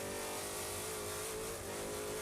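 Trophy truck engine revving and accelerating during a Baja 500 qualifier run, a steady harmonic drone that holds for a couple of seconds and sounds somewhat distant, with no talking.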